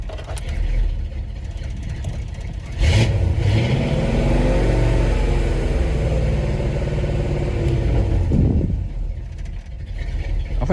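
A Chevy car engine, freshly fitted with a new fuel pump, cranks and catches, then runs loud and close with a rising and falling rev before settling back toward a rough idle.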